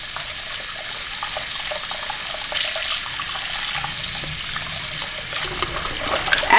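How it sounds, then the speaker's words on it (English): Tap water pours steadily into a filling bathtub, a continuous close hiss and splash that stays even throughout with slight surges near the end. "We're going to turn on the water."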